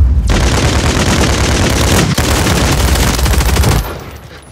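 A flash grenade thrown during video game combat erupts into a loud, sustained roar of blast and gunfire-like noise lasting several seconds before cutting off and fading.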